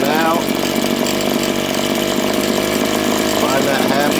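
A RedMax TRZ230S two-stroke trimmer engine runs loud and close during carburetor tuning, a buzzing high-revving drone whose pitch shifts as the fuel mixture is adjusted, with someone speaking over it.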